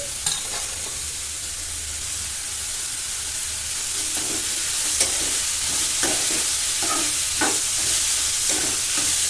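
Cucumber pieces and tamarind sizzle in a hot pan while being stirred, a steady hiss of frying with repeated scraping strokes of the spoon that grow a little louder toward the end.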